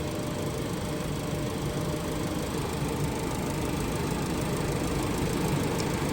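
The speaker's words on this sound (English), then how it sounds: "right now we are testing the compressor control valve on the compressor" A car air-conditioning compressor runs during a control-valve function test, giving a steady, unbroken engine-bay drone and hum at moderate level, close by, with no talking.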